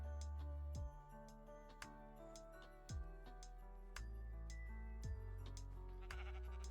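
Sheep bleat in modded Minecraft, the calls stacked over steady game music with repeated note onsets; no one speaks.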